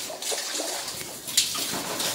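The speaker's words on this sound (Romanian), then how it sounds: "Să scoți apă dintr-un butoi și pui în același butoi." Water from a submersible pump, being tested on a 17 m deep well, pours steadily back into the same barrel as a continuous close splashing rush with no talking.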